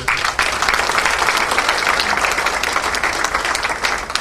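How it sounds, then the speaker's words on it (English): A crowd at an Indian Arrival Day function applauds steadily for about four seconds, a dense wash of clapping from many hands with no voices on top. "please give him a round of applause"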